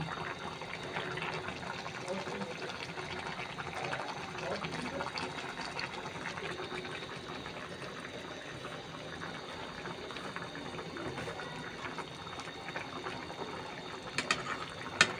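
Fish curry broth with fish pieces boiling in a pot, a steady low bubbling wash that runs continuously, with a few faint clinks near the end.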